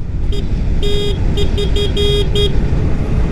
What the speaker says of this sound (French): on va tester le klaxon